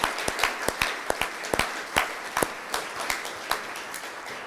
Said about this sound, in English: let's just have a round of applause for the staff at the Community House.